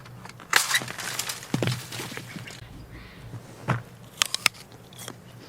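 Crisp bites crunch into a late-hanging Lady Williams apple picked from the tree outdoors, several loud, close crunches followed by chewing, with no talking.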